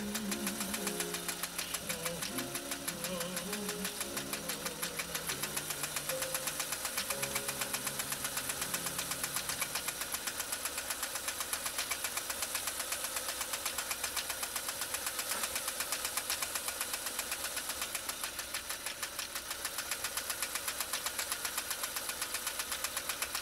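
A restored Pfaff 339 sewing machine sews a cam C stitch, running steadily for over twenty seconds with a continuous mechanical whir and rhythmic needle clatter, close and even in level throughout.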